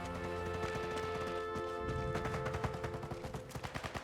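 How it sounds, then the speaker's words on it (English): Rapid bursts of gunfire crack through a busy Sniper Elite 5 game soundscape with background music, growing into a quick rhythmic series of shots toward the end. "I can hear gunshots."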